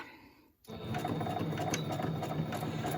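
A sewing machine stitches with gray thread, starting abruptly after a brief quiet moment and then running as a steady, close, continuous mechanical whir with no talking.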